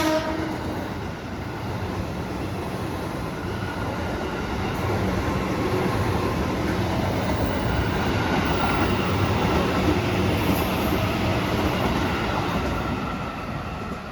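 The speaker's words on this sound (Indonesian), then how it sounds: "rangkaian kereta api Argo Merbabu telah tiba di jalur 4" The Argo Merbabu passenger train rumbles steadily nearby as it arrives at a Jakarta station, a continuous heavy rolling noise that swells slightly midway, with no voices.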